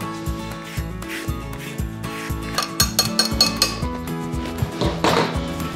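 A lemon is scraped against a zester for horseradish sauce, giving short repeated rasping strokes with light metallic clinks, close and fairly clear.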